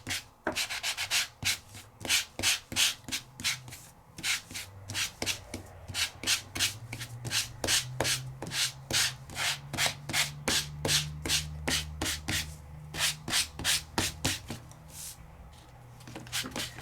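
Sanding around butterfly paper cutouts on a craft project with a sanding tool, a steady run of quick, close rasping strokes in rapid rhythm throughout, with no talking.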